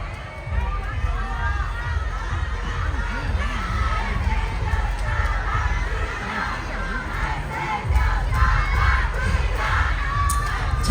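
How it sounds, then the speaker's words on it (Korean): A large festival crowd at the Jangheung Water Festival in 2024 shouts and cheers continuously, children's voices prominent among them, with a surge of louder cheering near the end and voices mixed through the noise. "장흥 분들은 다 소리도 잘 질러주시고"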